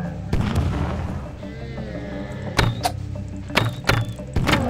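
Samurai in the TABS video game shooting exploding bomb arrows, several sharp booming blasts in quick succession with clanking game mechanisms between them, loud and close.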